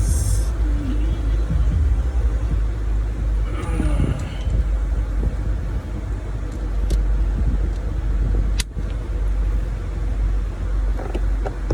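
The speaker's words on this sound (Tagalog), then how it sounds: "Painit tayo ng sasakyan" A car engine idles steadily while warming up before a trip, a loud continuous rumble close by with a few brief knocks and a sharp transient partway through.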